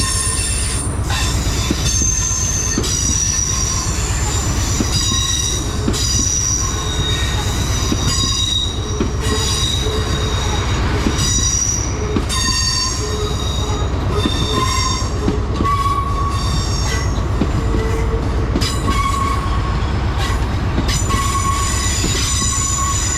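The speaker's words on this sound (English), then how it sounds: "Also arriving is the 1200 Great Western Railway service to London Paddington." A Great Western Railway train arrives at Bristol Temple Meads station on the Great Western Main Line, its wheels squealing loudly and persistently over a heavy rumbling roll.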